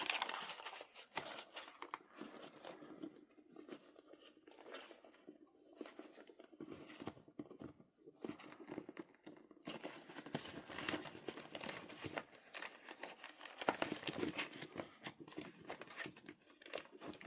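Paper envelopes and cash being handled for cash stuffing: close, irregular crinkling, rustling and tearing-like paper sounds in quick bursts, fairly quiet with no talking.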